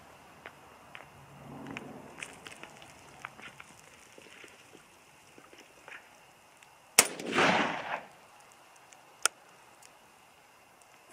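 A single loud crack from a 5.56 rifle with a 24-inch barrel, firing a Hornady 60 grain V-Max round during target shooting. The shot has a short decaying tail and comes after a stretch of faint ticking and rustling.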